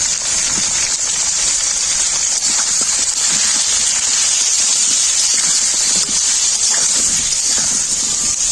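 Water pours steadily into a cooking pot with a bright, continuous gushing hiss that holds at an even level throughout.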